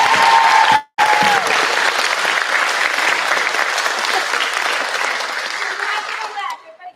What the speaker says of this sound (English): Let's give these 3 a round of applause.